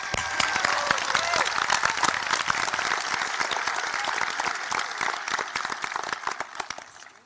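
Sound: graduation audience applause for tradespeople and soldiers

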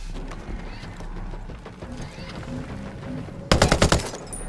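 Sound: turret machine gun fire in video game Ghost Recon Breakpoint

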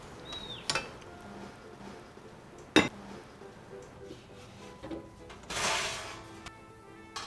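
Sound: pot of soup being placed into the oven

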